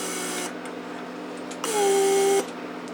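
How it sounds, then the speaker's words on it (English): A repaired Mercedes central locking vacuum pump runs in two short bursts, a steady hum for under a second then a louder whine with a rising tone, cycling the locks with no talk. "So let's do lock unlock,"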